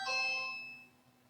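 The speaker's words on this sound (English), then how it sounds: "I'm getting burnt out on my doorbell. Every delivery person has to ring it." A home doorbell rings once with a bright electronic chime, a clear ding that rings out and fades away gradually into near silence.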